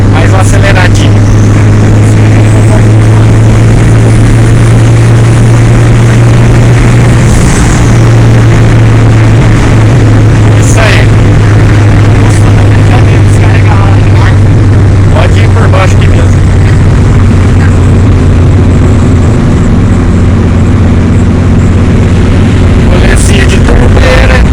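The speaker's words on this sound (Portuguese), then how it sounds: "Vai lá, mais uma aceleradinha." The 1.9 turbo engine of a VW Voyage drones loudly and close up, a deep steady rumble whose pitch shifts slightly as the throttle is blipped.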